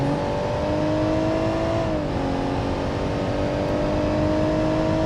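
A BMW Z4 M40i running a lap, a loud sustained engine drone with steady pitch that dips briefly as the car shifts, then holds constant.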